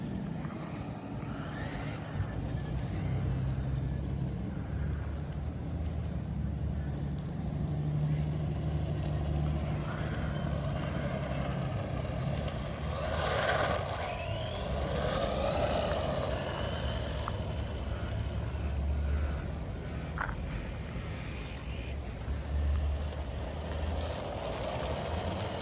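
A Kyosho Turbo Optima Mid RC car with a 550 motor runs steadily at a moderate distance, giving a continuous electric motor whine over outdoor background noise, with a few swells as it speeds up.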